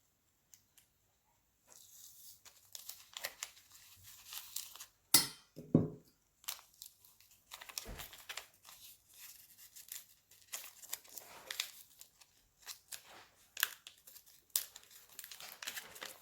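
A transfer image sheet is peeled off a glitter tumbler with crinkly plastic rustling and crackling in scattered bursts. A few sharper snaps stand out, all close and quiet, with no one speaking.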